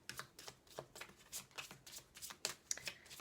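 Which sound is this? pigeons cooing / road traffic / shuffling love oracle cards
shuffling love oracle cards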